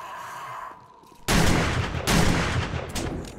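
Shotgun blasts in the survival video game 7 Days to Die: two loud, close broadband booms about three-quarters of a second apart, each with a decaying tail, over quiet game ambience.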